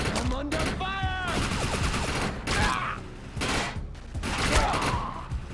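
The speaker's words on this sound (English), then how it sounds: "I'm under fire!" Rapid bursts of automatic gunfire in the shooter game Defiance, loud and close, with repeated volleys and explosive cracks, while someone talks over the shooting.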